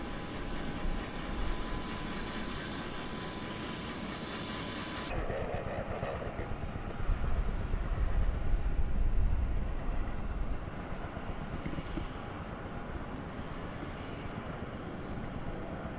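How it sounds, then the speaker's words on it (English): A Kaman K-MAX helicopter with intermeshing rotors gives a continuous, loud, rumbling drone that swells slightly in the middle, with no voices over it. "K-1200K MAX is an American helicopter with intermeshing rotors, Syncropter, by Kaman Aircraft"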